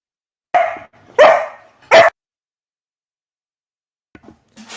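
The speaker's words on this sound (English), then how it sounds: "That was my dog barking." A dog barks three times in quick succession, loud and close, followed by silence and a few faint, brief sounds.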